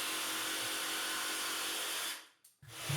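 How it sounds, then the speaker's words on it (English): A Bosch jigsaw fitted with an up/down-cut blade cuts through a board for a custom van seat base, giving a loud, steady buzzing whine that stops abruptly near the end, then briefly restarts. "Here I'm using the Bosch BR101"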